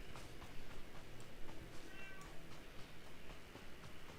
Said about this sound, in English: And he just meowed to agree with me.